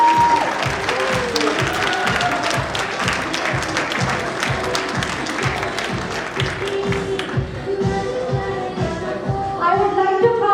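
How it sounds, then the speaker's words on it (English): An audience at an evening International Women's Day event applauds steadily, dense clapping filling the hall throughout with crowd noise, a voice speaking over it near the end. "Please give a big round of applause."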